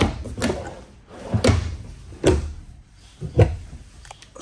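Kitchen drawers in a 2021 Forest River Work and Play 21LT toy hauler sliding open and shut, four separate soft knocks and rattles spaced about a second apart, close and fairly quiet.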